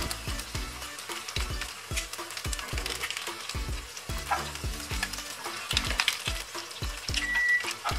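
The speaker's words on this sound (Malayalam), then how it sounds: "കല്ലുമുക്കായി കിട്ടുകയാണെങ്കിൽ നന്നായി ഫ്രൈ ആയി വരുന്നുണ്ട്" Mussels fry in hot coconut oil with a steady, close sizzle, while a spoon strikes and scrapes the pan in a quick, regular rhythm throughout; nobody speaks.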